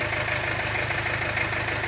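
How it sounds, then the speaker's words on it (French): A car engine idles steadily with the engine running while the automatic transmission fluid of a 6T30/6T40/6T45/6T50 gearbox is changed and topped up. The hum is continuous and even, with a low, faintly knocking pulse and no talk. "Bien sûr, moteur tournant"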